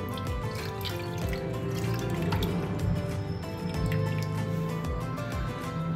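Liquid jelly mixture poured into a dish for a fruit jelly dessert, a steady trickle with soft drips running continuously and close, with no talk.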